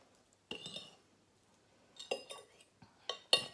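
Utensils clinking against a bowl of rendang-flavoured noodles, three short bursts of metallic scraping and tapping separated by quiet pauses, close and fairly soft.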